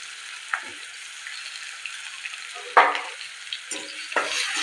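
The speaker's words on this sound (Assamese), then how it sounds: "এইখিনি মই ভালদৰে ভাজি লওঁ।" Black and white mustard seeds frying in oil with a ground paste of ginger, garlic and onion. A steady, close sizzle hisses throughout, broken by several louder bursts as the mixture is stirred.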